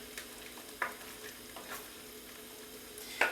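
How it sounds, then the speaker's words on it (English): A spoon stirs coconut cream into a simmering pumpkin, spinach, ginger and tofu curry, giving a few faint scrapes and soft taps against the pot over a quiet background sizzle. "Stir that around, just looks beautiful."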